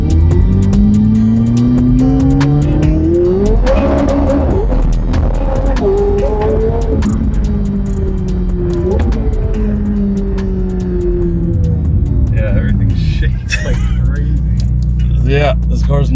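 Widebody McLaren running a straight pipe exhaust and stage 2 tune, roughly 900 horsepower, driven hard: a loud, close engine roar that climbs and falls through repeated revs for the whole stretch, with voices present over it.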